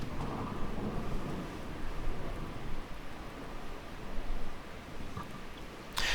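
Heavy rain pours in the game Miscreated during a rain, thunder and tornado weather pattern, a dense continuous roar with low rumbling thunder swelling underneath and no voices.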